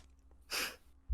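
A voice imitates shuffling a deck of cards with one short breathy riffle burst, alone in a quiet room, followed by a thump at the end.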